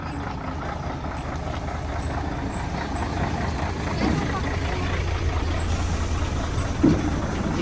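Vehicles idle and move through a pickup area outside a church in Doha, a continuous rumble of engines with a passing truck and a brief air-brake hiss, while people talk nearby.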